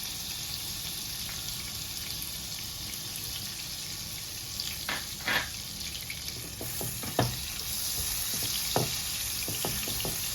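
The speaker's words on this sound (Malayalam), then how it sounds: "ഇനി നമ്മൾ ഈ ചൂടായി എടുക്കുന്ന ഓയിലിലോട്ട് തന്നെ നമ്മുടെ ബട്ടർ ഇട്ട് കൊടുക്കാം" Butter melting into already-hot oil for butter garlic chicken gives a steady, close sizzle and hiss, with a few sharper pops and spatters near the end.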